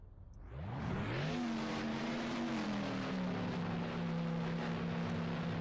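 A 1971 Formula 1 car engine in a racing game at the Monaco Grand Prix whines up in pitch, then holds a loud, steady high drone, as if cruising at speed.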